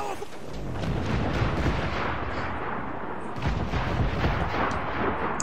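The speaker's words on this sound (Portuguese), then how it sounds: "Navio a caminho com os canhões de fora! Fogo!" Ship cannons firing in Assassin's Creed 4 Black Flag, a dense run of heavy booms and crackling blasts during a naval battle, loud and sustained with a few stronger peaks.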